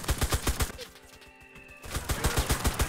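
Rapid automatic gunfire rattles in the shooter game Enlisted, with fast evenly spaced shots in two loud bursts. A brief quieter gap in the middle carries a low engine-like hum before the firing resumes.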